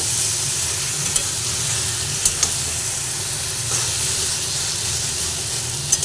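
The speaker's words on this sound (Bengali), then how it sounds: "নুনটা দিয়ে দিলাম আবার ভালোভাবে নাড়াচাড়া করে দিই" Taro greens frying in a pan with salt and fish mixed in, giving a steady close sizzle with soft stirring scrapes and a few faint clicks from the utensil, no voices.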